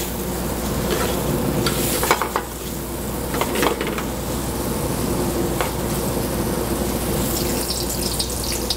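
Seasoned shrimp with salt, pepper, garlic and all-purpose seasoning cook on a grill at an Antigua chefs' event, a steady sizzle with occasional scraping and clinking of utensils throughout.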